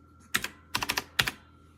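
Three short bursts of clicky keystrokes on an AULA F2088 typewriter-style mechanical keyboard with blue switches. Each burst holds a few sharp, close, bright clicks, and quiet gaps fall between them.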